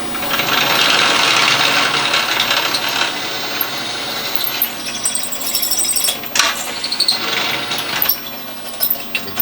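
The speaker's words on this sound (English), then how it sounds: "I just run the drill press down" A drill press drilling the head off a rivet on a Corvair flywheel, a loud whirring and scraping through metal that eases off into intermittent clicks and mechanical knocks.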